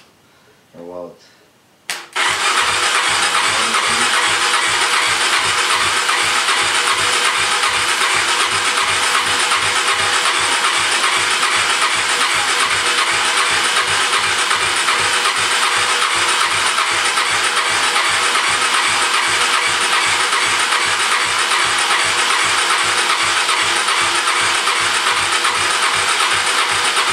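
An SX motorcycle engine, not yet running right, catches after a brief start attempt and then runs steadily with a rapid, rhythmic chugging and puffing, loud and close, for the rest of the clip.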